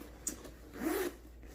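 A bag's deep top zipper is pulled open in one quiet, smooth rasping stroke, preceded by a faint tick, in an otherwise still room.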